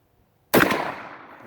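A single sharp blast from a SAR shotgun firing buckshot at a steel tank plate outdoors, starting from silence and trailing off in a rolling decay, with no voices.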